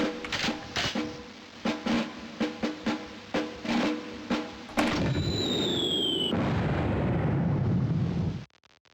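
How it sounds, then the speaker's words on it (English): Repeated mortar launches in the Army Men video game, a rapid series of sharp thumps and bursts that gives way to a sustained rumbling explosion with a rising whistle, ending abruptly. "let's do a few more mortars here"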